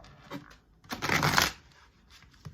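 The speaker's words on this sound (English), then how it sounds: "I'm gonna go ahead and to shuffle these cards" Tarot cards being shuffled by hand, a quick papery riffle burst up close that lasts about half a second amid otherwise quiet surroundings, with faint softer handling noises before and after.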